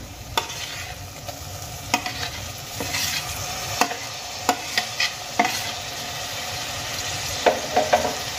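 Tomato paste and chopped green chillies fry with ground spices in a pan for an egg masala curry, a steady low sizzle broken by sharp scraping clicks of a spoon stirring against the pan every second or so, close up with no talk.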